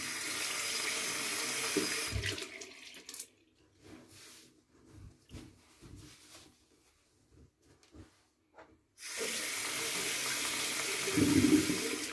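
Tap water gushes loudly into a sink to warm a Pearl Flexi adjustable razor, running for about three seconds, stopping amid soft clinks and handling noises, then flowing again strongly near the end.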